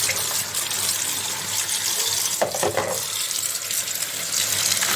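Green onions and radish being washed in a bowl of clean water, a steady close splashing and trickling that runs the whole time, with a brief stronger swish in the middle.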